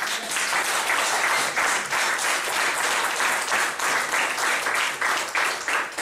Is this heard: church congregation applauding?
yes